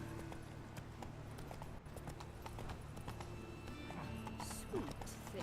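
Roach the horse walking in The Witcher 3 game world, with steady rhythmic hoof clip-clops close by, a brief snort or whinny near the end, and a voice speaking over the hooves.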